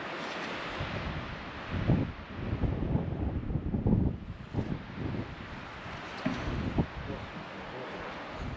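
Strong gusts buffet an outdoor microphone on a walk through the medieval hilltop village of Castelnou, France, producing a continuous low roaring rumble with surging bursts throughout.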